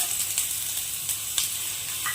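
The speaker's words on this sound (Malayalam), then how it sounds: "ഇത് നമുക്ക് നന്നായിട്ടൊന്ന് നെയ്യിലൊന്ന് വറുത്തെടുക്കാം" Chopped shallots sizzle in hot ghee with a dense, close, continuous crackle, broken by occasional scraping stirs through the pan.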